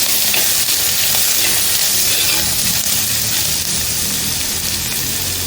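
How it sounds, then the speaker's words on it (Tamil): Onions and coriander leaves sautéing in a clay pot: a loud, steady sizzle and hiss of frying, continuous and close, with no talk over it. "கொத்தமல்லியை வெங்காயத்தோடு சேர்த்து போட்டுக்கோங்க. வெங்காயம் நல்லா வதங்கிடுச்சு."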